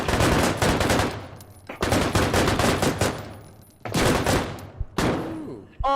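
Bursts of rapid automatic gunfire in the video game Deadside, loud and close, in several long volleys separated by brief pauses.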